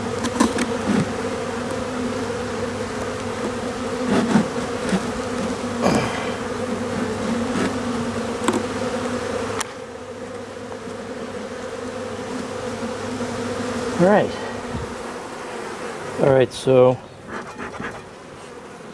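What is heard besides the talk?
honey bees buzzing during hive inspection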